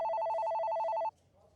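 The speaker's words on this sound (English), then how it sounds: "Your phone is still ringing." A telephone ringing with a rapid trilling electronic bell that sounds for about a second and then stops abruptly, leaving quiet room tone.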